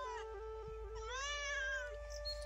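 A cat gives a drawn-out, rising and falling meow, close and clear over a low steady background hum.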